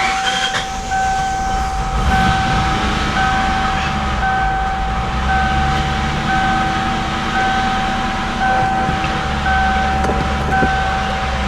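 A flooded, smoke-filled Ford Mustang Cobra with 11,000 miles runs with a steady, loud engine rumble and a constant high whine, heard close and unbroken with no talking.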